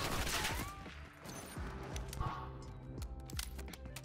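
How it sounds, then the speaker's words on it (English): Rapid gunfire in Black Ops 6 Search and Destroy, with bursts of automatic shots and sharp cracks over game sounds and a short whistling tone, no speech. "Okay, let's try this gun."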